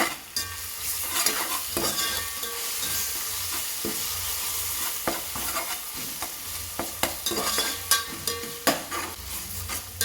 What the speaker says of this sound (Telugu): టూ స్పూన్స్ అల్లం వెల్లుల్లి పేస్ట్ వేసుకోవాలండి బాగా వేగనివ్వాలి